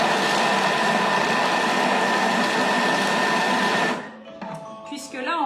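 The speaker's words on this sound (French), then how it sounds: "Et là, on va mixer 5 secondes, vitesse 5." A Thermomix blitzes chopped carrots and celery at speed 5 with a loud, steady whirring roar for about four seconds, then stops abruptly, leaving faint clinks and rattles.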